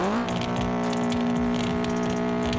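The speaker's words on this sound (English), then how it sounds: "if I start my engine, you'll hear we can change all kinds of sounds" A video game race car engine revs hard up to the redline, a loud sustained tone with a steady rising harmonic whine and gritty mechanical texture throughout, heard alone.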